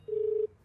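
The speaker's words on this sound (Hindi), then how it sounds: "अरे सर फोन बज रहा है, देखो ना।" A telephone in a dubbed South Indian action movie gives a single short electronic tone, clear and steady for under half a second before falling silent.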